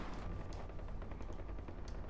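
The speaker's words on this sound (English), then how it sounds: "Is it me, or do I hear gunshots?" Faint gunfire crackles in the distance in Far Cry 4, a rapid scattering of small pops over a noisy background.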